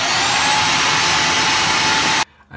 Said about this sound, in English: go ahead and vacuum out all the lint